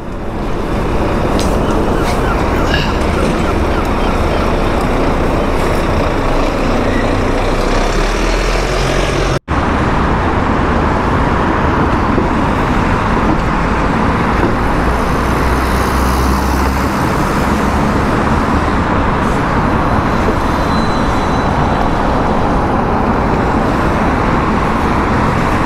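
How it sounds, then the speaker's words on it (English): Electric double-decker buses move through busy Belfast street traffic, giving a continuous, fairly loud roadway rumble with passing vehicle noise and a brief sharp knock partway through. "Those double-decker buses are zero emissions or electric as well."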